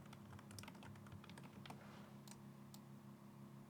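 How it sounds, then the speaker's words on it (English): Fingers type steadily on a computer keyboard, a close, quiet run of irregular key clicks with brief pauses and no voice. "And I'm going to type how the algorithm works."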